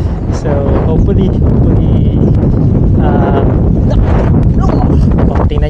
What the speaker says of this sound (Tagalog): tingnan nyo kung gaano kalakas yung hangin.